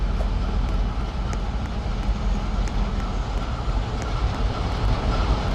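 Trains rumble steadily at a BNSF railway repair shop, a dense continuous roar with faint metallic clicks ticking through it, close by and without talk.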